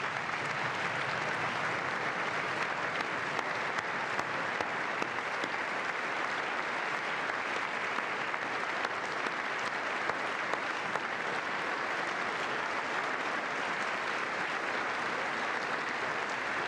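Audience applause during a televised address, a continuous, even wash of many hands clapping at steady volume throughout, with no voices standing out.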